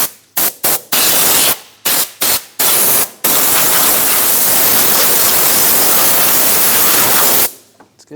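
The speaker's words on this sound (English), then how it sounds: "Just going to clean up some of the dirt using some compressed air." Compressed air blasting dirt off an engine panel on a 2009-2013 BMW 328i xDrive 3.0L inline-six, several short loud hissing bursts followed by one long steady blast, close to the microphone.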